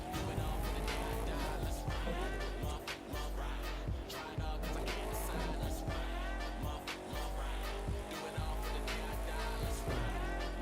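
An all-terrain vehicle in The Crew 2 racing game drives off-road with a steady engine drone, rumbling and sliding, with tire noise and occasional thumps from bumps throughout.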